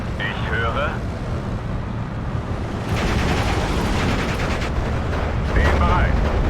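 Gunfire and artillery in the WWII strategy game Steel Division II during a German last stand in 1944, a continuous dense rumble of shots and blasts that grows heavier midway, with brief radio voices over it.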